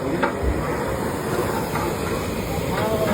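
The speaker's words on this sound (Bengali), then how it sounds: "তো দেখতে পাচ্ছ পরপর 3টে গ্যাস বসানো, রান্না হচ্ছে।" Three gas burners roar side by side under cooking pots, a constant broad hiss with faint clatter as a person talks over it.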